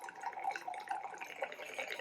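Stave & Steel bourbon barrel aged Cabernet Sauvignon is poured through a wine aerator, giving a close, steady gurgling trickle of liquid with small bubbling splashes for a couple of seconds.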